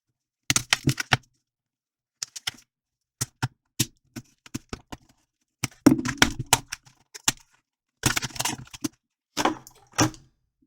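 Scissors cut out a cardboard card from action figure packaging. Crisp irregular snips and crackles come in short bursts separated by silence, close and clear.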